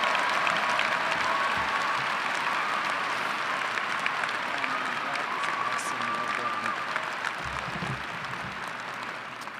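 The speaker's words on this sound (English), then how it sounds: "One more round of applause." Sustained crowd applause fills a commencement ceremony hall at a winter graduation, steady and dense throughout with scattered whoops and cheers, gradually tapering toward the end.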